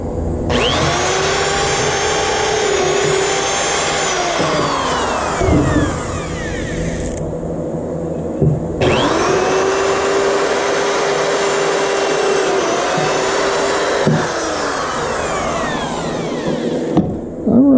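A power drill pre-drilling screw holes in wood for a homemade fillet table, loud, steady whining runs that spin up and wind down twice, close by, with no talking.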